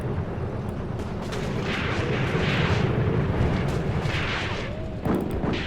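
Tank cannon fire in a WW2 video game battle between a German Panzer II and an American M3, heard as continuous heavy rumbling with booming blasts and a sharp hit near the end, no talking.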